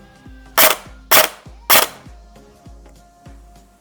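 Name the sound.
airsoft pistol (R15 Skeleton FREYA Grand Power) firing BBs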